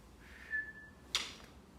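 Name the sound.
whistle blown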